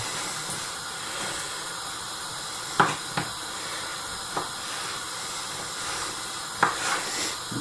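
Thick-cut diced bacon sizzling in a dry pan with no added fat, a steady close hiss broken by a few sharp spits and pops.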